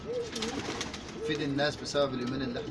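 Pigeons cooing near gravel: soft, repeated throaty coos in short rolling phrases, close by, heard under someone speaking Arabic.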